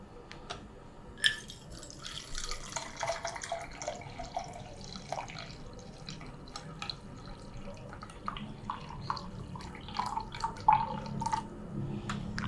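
Hot water poured from a kettle into a French press of coffee grounds, a close, steady trickle and splash lasting several seconds with a few clinks, fairly quiet and without speech.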